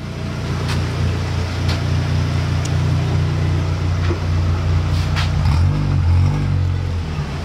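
A car engine idles steadily and then shifts pitch and revs as it is put in gear, running on without stalling; a loud, continuous close-up drone with a few faint clicks over it.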